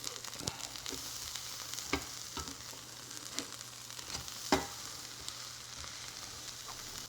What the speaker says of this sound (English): These are gonna toast up fairly quickly, so let's give it a flip.